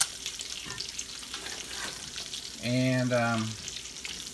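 Bacon keeps frying in a skillet with a steady, close crackle and sizzle, while a voice briefly talks over it near the end.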